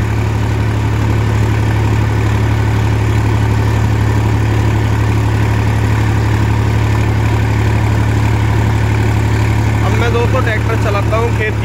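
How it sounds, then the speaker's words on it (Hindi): Massey Ferguson 245 DI tractor engine running with a Maschio 60-blade rotavator, giving a loud, steady diesel drone with a constant low hum that holds unbroken throughout. "पूरे आरपीएम बिल्कुल बढ़िया चल रहे हैं और ट्रैक्टर बिल्कुल भी धुआं नहीं दिखा रहा"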